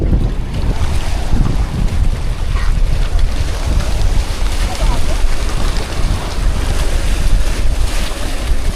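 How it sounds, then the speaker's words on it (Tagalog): Loud, constant wind buffets the microphone over rushing sea waves around a small boat out on open water, with no break throughout. "Kaya baka mawasiwas ka ng alon dyan."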